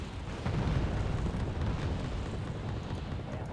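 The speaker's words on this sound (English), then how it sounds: "So you're dropping bombs on them." Bombs exploding in the war strategy game Wargame: Airland Battle, a heavy, continuous low rumble of blasts that swells after a brief moment and rolls on without talk.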